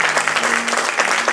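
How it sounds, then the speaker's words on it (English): A church congregation applauds Bible reading program participants, a short burst of many hands clapping together, dense and lively throughout. "Let's give them a round of applause."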